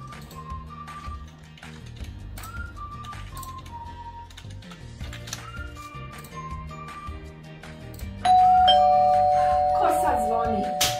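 A doorbell chime rings out suddenly and loudly near the end, its clear tone slowly fading, after a stretch of people talking over background sounds.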